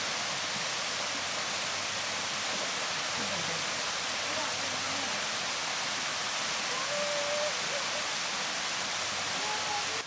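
A waterfall pours down at a swimming spot, a dense, loud, unbroken rushing wash that fills the scene, with faint voices buried beneath it.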